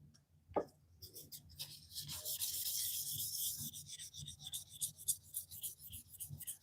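Fine 2000-grit abrasive rubbed over leather in a polishing pass, a steady close hiss of friction with short strokes and brief scuffs, no talk.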